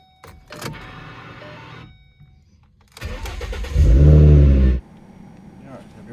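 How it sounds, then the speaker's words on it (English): Ford Mustang V6 cranks and fires up after a new fuel pump is fitted, with a short crank, a pause, then a longer crank that catches into a loud idle that settles down; nearby movement and faint voice-like sounds around it. "let's see if it'll crank up and start over each time"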